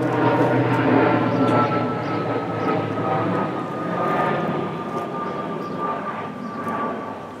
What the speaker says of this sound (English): an airplane comes into land.